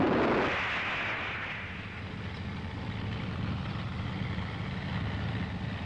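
An M551 Sheridan's main gun fires once, a heavy blast at the start that rolls off into a long, rumbling echo across open ground.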